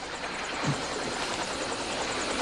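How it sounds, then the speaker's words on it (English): A helicopter flies overhead in a continuous, fairly loud rotor drone with a faint rhythmic chop, holding steady and slightly swelling as it approaches. "Oh, it sounds like a helicopter."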